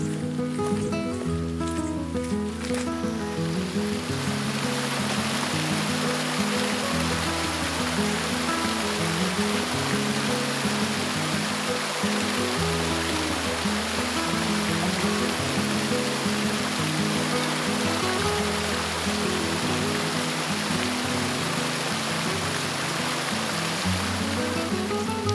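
North River waterfall and its stream at Five Islands, Nova Scotia, pour in a steady, dense rushing roar that stays loud and unbroken throughout, with no voices.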